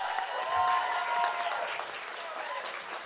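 A short burst of audience applause for union president candidates, steady clapping from a modest crowd at moderate distance that eases off toward the end, with faint voices beneath.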